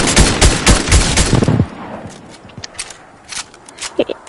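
Rapid automatic gunfire in the video game Fortnite, a loud dense burst of shots lasting about a second and a half, then sparse scattered single pops and clicks trailing off.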